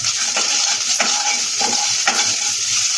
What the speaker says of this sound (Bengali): মিনিটখানে সময় ধরে এটাকে নেড়ে ফেলে আমি তুলে দেবো